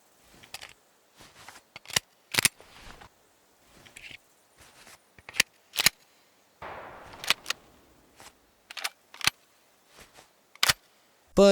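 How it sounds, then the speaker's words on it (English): Mechanical rifle handling in the tactical shooter Ground Branch: a series of sharp metallic clicks and clacks, close and crisp, with a longer scraping slide of metal on metal as the charging handle is pulled back, spaced irregularly with quiet gaps. "you can hear the sound of metal on metal sliding against each other and you're pulling back the charging handle"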